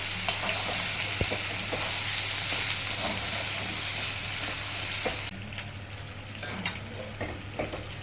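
Cabbage and fish head curry with ghee and garam masala stirred in a pan, a soft steady sizzle with a constant hum beneath and occasional scrapes of the spatula, quieter toward the end.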